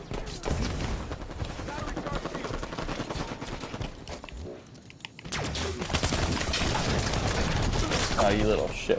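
Assault rifle fire in the shooter game Halo rattles in rapid continuous bursts, loud and close, with a brief lull midway before heavy firing resumes, mixed with game effects and a voice talking over it.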